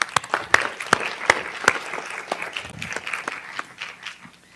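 Scattered applause rises from a school board meeting audience, built from sharp, distinct hand claps at a moderate distance that keep up an irregular rhythm for several seconds.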